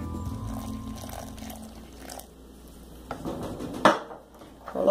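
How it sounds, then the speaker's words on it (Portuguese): Water is poured into a mashed potato mixture with grated cheese in a kitchen, then a utensil scrapes and clinks against the bowl. The sounds are soft, close and sparse, and no one speaks. "E vou adicionar agora um pouco de água."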